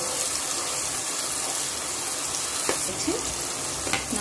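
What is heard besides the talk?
onions sautéing in oil in a pan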